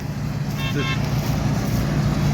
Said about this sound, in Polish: O! Jacyś znajomi jechali nawet. Trąbią.